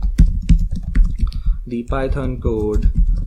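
Rapid clicks of typing on a computer keyboard, close and crisp, with someone talking over the latter half.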